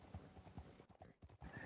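Horse hooves in Red Dead Redemption 2 Online clop in a quick, steady rhythm as the horse moves along, moderately loud and close with no talk over them.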